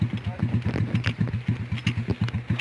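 A trail motorcycle engine putters in a steady rapid chug close by, with regular exhaust pulses throughout and louder crackles on top.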